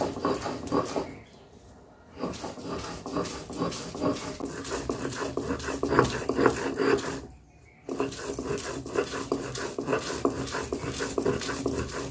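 Fish paste is ground by hand on a stone slab (shil), a continuous close gritty scraping and rubbing with a steady back-and-forth rhythm, pausing briefly twice.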